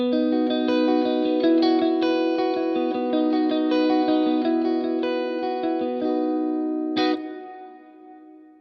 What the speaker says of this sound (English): And then the Hall Reverb on the Blackstar